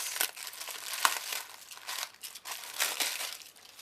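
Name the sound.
opening a package of lace trims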